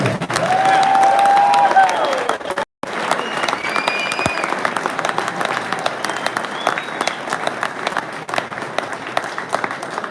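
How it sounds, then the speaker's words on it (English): A crowd at a fishing national championship awards show applauds and cheers an honoree, dense clapping with whoops and shouts rising over it, briefly cut to silence before the applause resumes and carries on steadily. "one more round of applause for your 2019 Mr. Marty Elsea"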